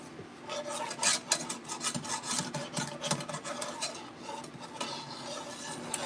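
A metal whisk scrapes and rasps around a pot in irregular close strokes while mixing seasoned cream for baked mac and cheese, clattering faintly against the sides.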